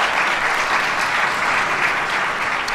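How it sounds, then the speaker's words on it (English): A seated audience at a city community development grant announcement applauds the local council members, a dense, steady wash of many hands clapping that holds at an even level for nearly three seconds with no talk over it. "Can we give all of our alder persons a round of applause?"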